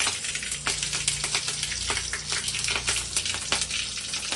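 Mustard seeds and asafoetida sputter in hot oil with a dense, bright, continuous crackle that holds loud and close throughout, with no voices over it.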